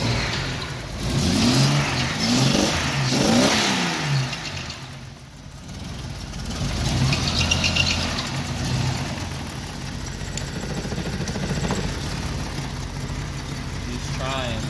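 A jeep engine running rough idles and revs unevenly, surging and dipping at close range, with people talking over it.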